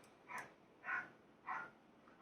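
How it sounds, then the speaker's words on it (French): A dog barks outdoors, heard faintly from inside a room through open windows: three short, distant barks spaced evenly apart over a quiet background. "Si vous entendez un chien, c'est rien"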